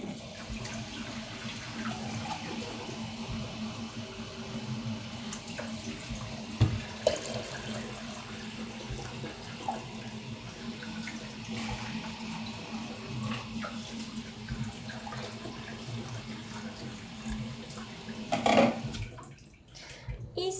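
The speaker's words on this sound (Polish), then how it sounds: "Tutaj za chwilę sobie doleję wody, żeby było więcej i od nowa ją zagotuję." Water running from a tap into a Turkish double tea pot to top it up before reboiling, a steady soft splashing flow over kitchen background noise with a few clinks, fairly quiet and without speech.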